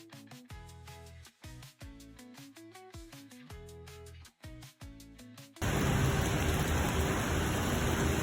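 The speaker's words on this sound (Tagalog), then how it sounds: "At paglabas nga namin ng mall, sobrang lakas pa rin ang ulan guys" Heavy rain pours outside a shopping mall in Singapore, arriving abruptly after several seconds of rhythmic music and then holding as a loud, dense, steady hiss to the end.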